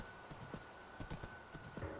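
Horse hooves clip-clopping in Minecraft, a quick, uneven series of soft thuds as a horse trots at night through a forest, fairly quiet.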